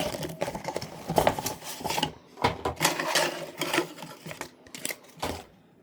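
Unboxing a boxed Ducati diecast scale model bike, with close, irregular crinkling, tearing and scraping of cardboard and packaging in bursts of varying loudness, no voices.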